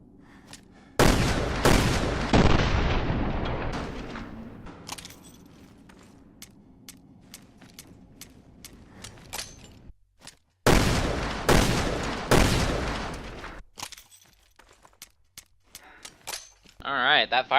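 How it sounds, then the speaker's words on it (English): Magnum revolver firing in the video game Resident Evil: Revelations 2, loud booming shots in two bursts separated by a slow reload with mechanical clicks and clatter, game sounds alone without talk. "that firing speed is quite faster than the previous 2 Magnums. But yeah, that reload speed is really slow."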